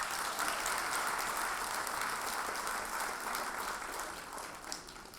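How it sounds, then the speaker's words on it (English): A large audience at a nursing candle lighting ceremony gives sustained applause to the nursing team, an even, fairly distant roar of many hands that fades slightly toward the end. "Give them an applause."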